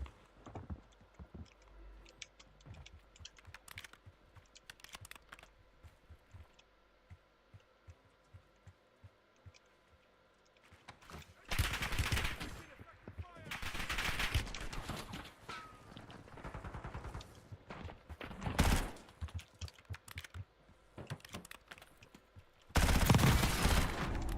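Call of Duty Warzone gunfire, loud rapid automatic bursts and heavy shots in the second half, preceded by quieter clicking and light taps.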